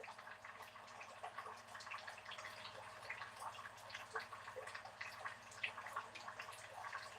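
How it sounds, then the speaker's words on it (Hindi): Water drips and trickles steadily off a roof after rain, a faint patter of scattered drops over a low continuous hum, with no voices. "पानी का आवाज आते का चुरुर चुरुर"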